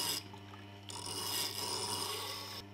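A White Hunter knife blade scraped along the edge of a sharpening stone, a steady close rasping rub with a brief pause partway through, heard alone without talk.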